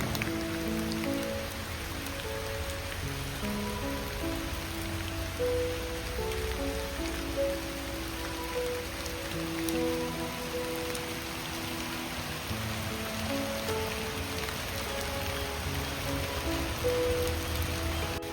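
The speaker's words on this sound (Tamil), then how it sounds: "மழை வேற பெய்யுது." Steady rain falls in Kerala, a dense, even patter on surfaces that continues unbroken for the whole stretch, with no voices.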